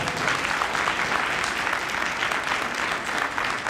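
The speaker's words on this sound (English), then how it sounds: "Let's give Yvette another round of applause" Steady, dense applause from a crowd at a university commencement ceremony, even and continuous throughout with no speech over it.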